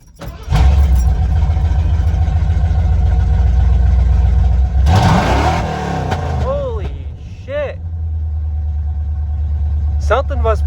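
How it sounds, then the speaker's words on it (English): A car engine fitted with a Holley 4-barrel carburetor, freshly tuned, revs up hard and loud from idle, then settles back to a steady running idle, close to the microphone with no talk over it. "I used the same amount of throttle and he revved straight to 5 grand."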